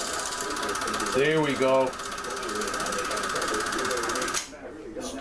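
A Sankyo Sound 600 film projector threads film with a steady mechanical whir and a rapid clattering ratchet of the gears. A brief voice speaks over it midway, and the mechanism cuts off near the end.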